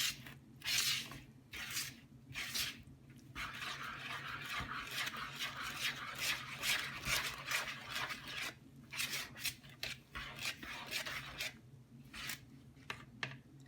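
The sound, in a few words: mixing cinnamon roll ingredients in a bowl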